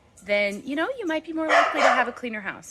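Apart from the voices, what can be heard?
dog barking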